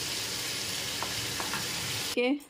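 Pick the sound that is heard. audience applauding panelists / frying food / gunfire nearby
frying food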